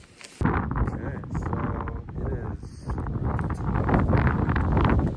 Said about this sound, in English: it started to get very windy here, so the audio isn't really the best